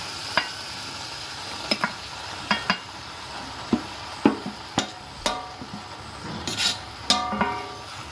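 Fried brinjal being stirred into a vinegar pickle mixture, with a spoon making scattered scraping knocks and wet clicks against the pan over a faint sizzle, close and fairly quiet, no voices.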